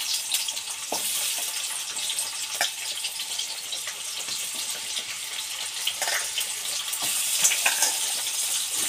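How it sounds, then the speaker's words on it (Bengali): Prawns fry in hot oil in a pan, giving a continuous close sizzle with scattered crackles and occasional stirring clicks, with no one speaking. "তো আমি তেলটা গরম হয়ে গেছে, তো দিয়ে দিয়েছি।"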